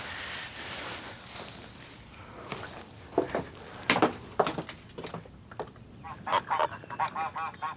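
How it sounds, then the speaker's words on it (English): Geese honk as they settle in a stubble field, with several clear calls coming in short bursts, some closer and louder, against faint outdoor background noise. "Up in the stubble field, the geese are settling in, gobbling up any leftovers on the ground."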